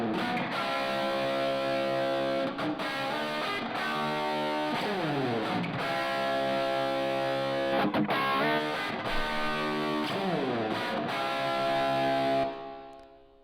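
Electric guitar played through a chamber reverb set fully wet, distorted chords and notes smearing into a dense, sustained wash that rings continuously for about thirteen seconds before the tail fades out.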